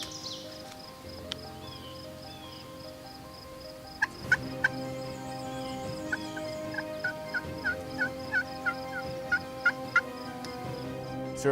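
A wild turkey gobbles repeatedly during a Pennsylvania spring hunt, its calls fairly distant and steady over a constant outdoor woodland hum, with sharp regular clicks or clucks marking a rhythm throughout.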